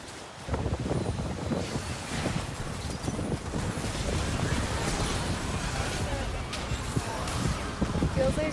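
Cold wind sweeps across a mountainside above the tree line, buffeting the microphone as a constant broadband roar that holds steady from start to finish.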